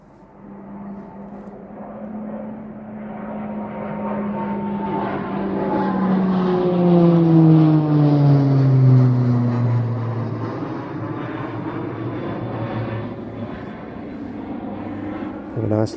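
A T-6 Texan propeller plane flies through the Mach Loop, its droning engine swelling as it nears and falling in pitch as it passes and fades into the distance.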